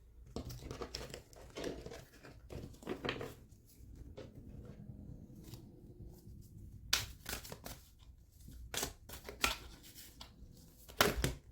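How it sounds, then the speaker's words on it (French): Tarot-style advice cards are shuffled and drawn for a Sagittarius reading, with soft papery riffles, slides and crisp flicks recurring close by throughout, with no talk over them. "maintenant je vais faire le tirage des cartes conseils des Sagittaires pour vous."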